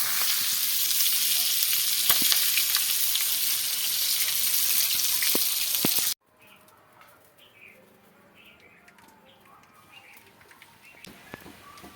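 Oil sizzling in a cooking pan, a loud, steady hiss with a few sharp crackles that stops abruptly halfway through. Faint quiet room sounds and distant birdsong follow.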